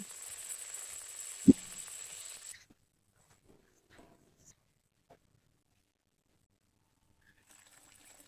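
Mustard seeds, cumin, dal and curry leaves sizzle in hot oil for a cucumber-tomato masoor dal, a fairly loud close hiss with one sharp pop that cuts off abruptly, leaving near silence with faint clinks.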